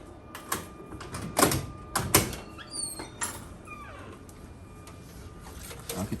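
Door being closed indoors, with several sharp knocks and clunks from handling it, followed by faint squeaks and quieter rustling in a room.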